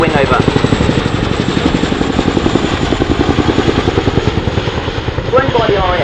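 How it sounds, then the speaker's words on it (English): RAF Chinook twin-rotor helicopter flying a display pass at an air show, a loud, close, rhythmic rotor thudding that pulses steadily, with a commentator talking over it. "As he runs in now, the Cninook will turn away by 60 degrees into the crowd centre for a crowd centre offset wing over."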